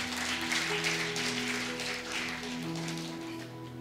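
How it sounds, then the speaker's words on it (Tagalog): A church congregation at a Sunday service claps steadily, a soft wash of many hands at a distance over a sustained musical tone, fading slightly toward the end. "Pwede ba isa pang malakas na palakpak?"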